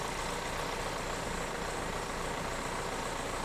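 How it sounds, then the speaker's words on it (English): A car engine idles steadily at low volume, a constant rumbling hum with no breaks or changes, while being checked for variable intake cam timing faults. "Listen for the engine note to change as we vary the position of the intake cam."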